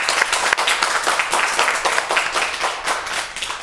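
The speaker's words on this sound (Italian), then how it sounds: "con un bel applauso, Luca Brondolin." A studio audience applauds a guest on an Italian football talk show, a lively, close burst of many hands clapping in quick uneven waves, alone without talk.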